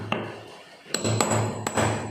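Sharp metal hammer strikes on a leather-stamping tool press a pattern into leather, about five distinct taps in an irregular rhythm, close and crisp, with a faint hum underneath.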